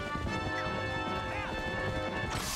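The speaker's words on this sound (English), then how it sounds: "Hey, the horse is running in circles." A horse gallops with rapid clip-clop hoofbeats in The Legend of Zelda: Twilight Princess HD, mixed with loud game music and effects and a brief whinny, all under a dense, steady game soundtrack.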